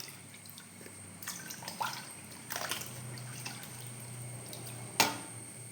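Something being washed in water during preparation of jaggery-coated banana chips: faint trickling and dripping with a few splashy rinses and a sharp clink near the end, quiet and close, no talking.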